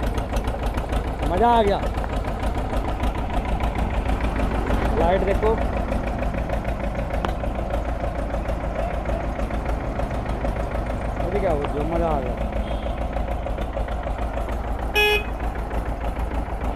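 TAFE 25 DI tractor idling close by with a steady, low diesel chug throughout, while people talk over it.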